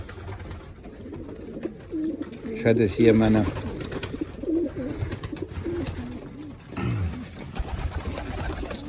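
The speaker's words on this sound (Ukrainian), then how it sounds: "Подивіться на цих голубів." Pigeons cooing in a loft, several close, throaty coos in short bursts rising over a low background, while a person speaks intermittently nearby.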